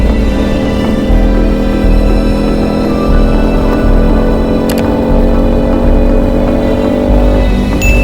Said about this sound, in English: Just got to get through this traffic.